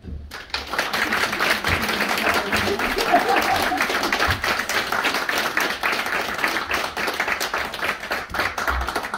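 Audience applause welcoming Chief Carla Alexander at the Persen Museum, a steady, dense wash of clapping from a crowd that fills the whole stretch at even loudness, with a few louder claps standing out.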